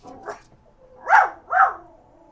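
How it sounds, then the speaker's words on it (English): A dog indoors barks twice in quick succession, close and fairly loud, after a softer yelp, with quiet in between and no speech. "have a dog here, I'm sorry."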